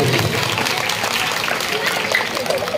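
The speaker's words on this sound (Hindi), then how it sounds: "दृश्य पसंद आया हो तो एक बार जोरदार तालियां हो जाए भरत जी के लिए" A crowd applauds at an open-air Ram Leela stage performance in a main market, continuous clapping with a voice talking over it at the same time.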